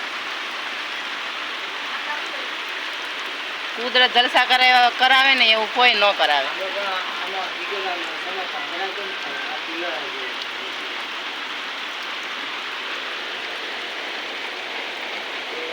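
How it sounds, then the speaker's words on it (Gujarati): Outdoor rain in a village keeps up a steady, moderately loud hiss throughout, with someone speaking briefly over it partway through. "અમારે તો વરસાદ અહીંયા ચાલુ થઈ ગયો છે"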